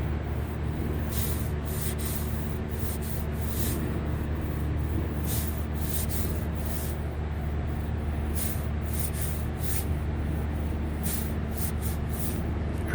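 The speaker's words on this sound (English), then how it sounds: "if you listen to my hand going over the surface, you'll hear that this is almost sandpaper rough" A hand rubbing over the sandpaper-rough paint of a 1965 MG MGB body panel, a steady close scraping hiss with faint repeated strokes, no talking.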